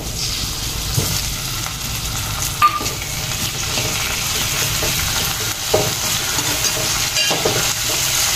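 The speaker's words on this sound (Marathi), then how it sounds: "छान असा परतून घ्यायचा आहे कांदा. टोमॅटो घालूया, बारीक कापलेला टोमॅटो." Onion and finely chopped tomato sauté in a pan with a loud, continuous sizzle and hiss. Occasional stirring knocks and scrapes sound close by.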